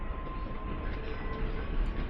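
Diesel locomotive hauling a passenger wagon in the game Workers & Resources, a continuous low rumbling roll with a steady engine drone, fairly loud and unbroken, no voices.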